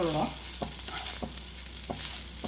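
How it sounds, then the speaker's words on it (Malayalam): Okra and leftover rice are stirred in a sizzling pan, with a few distinct scraping strokes of a spoon over a steady close frying hiss, no voices. "ഇതുപോലെ താഴെ നിന്ന് മുകളിലേക്ക് എന്നുള്ള രീതിയിൽ ഒന്ന് മിക്സ് ചെയ്ത് കൊടുക്കുക"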